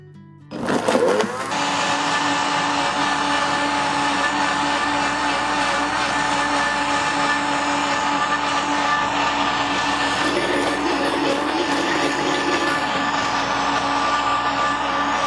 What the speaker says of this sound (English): I will blend this for several minutes